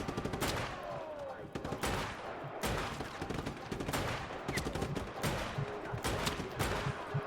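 Video game gunfire sounds out in repeated sharp shots and bursts, some in quick succession, with a faint voice in the background.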